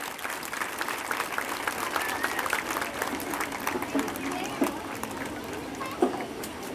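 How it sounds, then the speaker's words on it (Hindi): Applause at a celebration event honoring a music composer, moderately loud clapping from a crowd with scattered louder claps, blended with background murmuring. "जोरदार तालियां"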